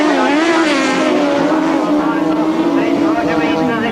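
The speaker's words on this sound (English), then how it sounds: "The revs will start to go up." Engines of 1000cc grasstrack racing sidecars rev hard at the start line, a loud, steady, buzzing roar whose pitch wavers and climbs slightly throughout.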